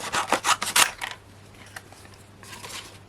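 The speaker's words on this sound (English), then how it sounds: "And I bring in some mirri, gold mirri. Just a rough cut around that." Scissors make quick snipping cuts through gold mirri card, a cluster of sharp close snips followed by a pause and a few softer cuts.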